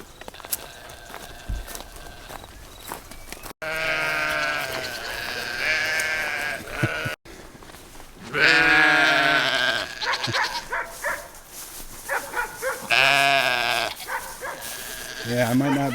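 Sheep on a farm bleat loudly and repeatedly at feeding time while hay is brought, several overlapping cries close by, with people talking in between.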